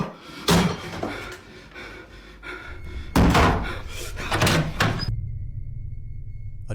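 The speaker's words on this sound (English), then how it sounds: "A knocking sound." Sharp, heavy knocks and thuds hit a door in two loud clusters, a pair early and a longer burst midway, followed by a low steady hum.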